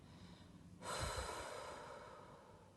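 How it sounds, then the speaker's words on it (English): A slow, steady exhale during a calm breathing exercise, starting abruptly and trailing off gradually as a soft, close, airy breath with no talking. "Then we're going to breathe out for 4 seconds"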